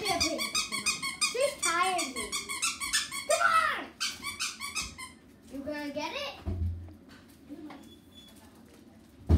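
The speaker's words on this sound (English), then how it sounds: "let me give her a squeaky toy" Rubber squeaky dog toy squeaked in rapid repeated bursts, close and loud, with a dog's excited noises and children talking throughout.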